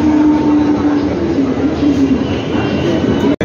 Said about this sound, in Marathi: मित्रांनो हे बघा आपली ट्रेन आलेली आहे आता.